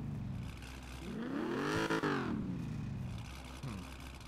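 A car engine running and revving, rising in a loud sweeping rev that peaks in the middle and falls away, over a steady idle rumble with a brief clatter near the end.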